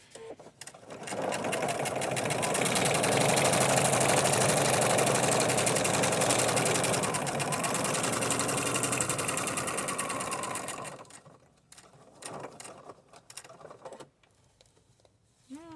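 Sewing machine stitching a junk journal cover, a steady close mechanical whir running for about ten seconds before stopping, followed by a few quiet handling clicks and rustles.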